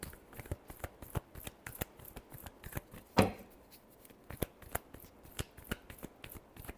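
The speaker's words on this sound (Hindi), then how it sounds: "Last shuffle." Tarot cards shuffled by hand in a quiet room, a fast run of crisp riffling flicks and taps with one louder slap of the deck near the middle, close and alone without talk.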